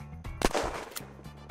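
A single loud gunshot in the video game Unturned, landing a headshot: one sharp crack followed by a brief ringing tail, with a fainter second report shortly after.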